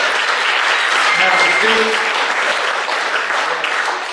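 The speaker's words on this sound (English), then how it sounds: "Give him a big round of applause." Loud, dense audience applause at a recognition banquet, continuous clapping throughout with a voice speaking briefly over it.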